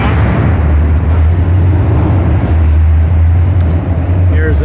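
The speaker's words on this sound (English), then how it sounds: "You can hear cars running in the background." Muscle cars and Corvettes idling at an outdoor car show, including 427 cars with side pipes, producing a loud steady low engine rumble that fills the background throughout.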